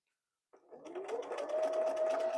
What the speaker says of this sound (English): So I'm going to sew from there straight across.